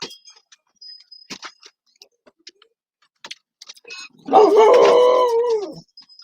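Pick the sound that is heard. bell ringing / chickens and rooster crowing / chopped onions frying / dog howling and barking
dog howling and barking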